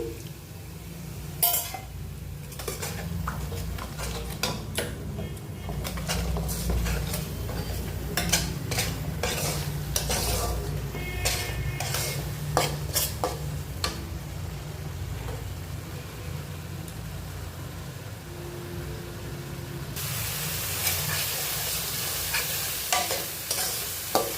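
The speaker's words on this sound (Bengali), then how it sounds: "এটা দিয়ে মশলাটা খুব ভালোভাবে কষিয়ে নেব।" Spice paste for prawn malai curry sizzles in hot oil while a spoon scrapes and clatters against the pan in steady, repeated strokes, close and continuous throughout.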